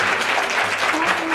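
A crowd applauds a speaker at a finance talk concert, a brief burst of steady clapping from an audience in a hall, with a voice speaking over it.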